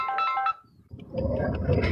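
A phone ringtone from an incoming call sounds as a short bright melodic chime for about half a second, then cuts off into a dip of near silence followed by muffled room noise.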